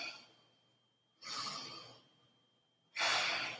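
Two deep breaths during a yoga flow, each a long airy rush of air, the second louder and closer, separated by quiet pauses.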